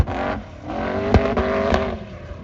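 Pro R4 side-by-sides on sand dunes rev hard, their engines roaring loudly with sharp pops and bangs and shifting pitch as they accelerate close by.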